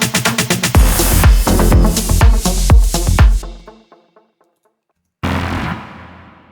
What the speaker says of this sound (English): And I've imported this dirty lead.